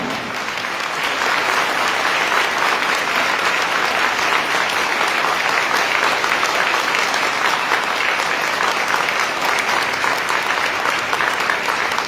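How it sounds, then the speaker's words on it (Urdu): Loud, sustained applause from a church congregation at an Advent Sunday service, steady dense clapping that holds at full strength throughout. "زوردار تالیاں بجائی جاتی ہیں"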